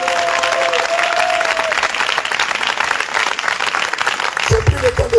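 A church congregation at a revival service applauds and acclaims loudly in steady, dense clapping that fills the room, with voices cheering through it and a few louder shouts near the end.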